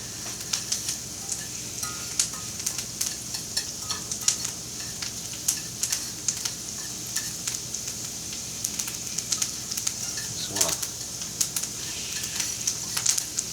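Jalapenos sizzling in a pan on a burner turned up high, a steady close frying hiss with frequent small crackles and pops, plus a brief stirring scrape partway through.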